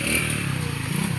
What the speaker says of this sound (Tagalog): Ang delikado kung naisakyanan kay kusog pa padagan dari ang mga motor po.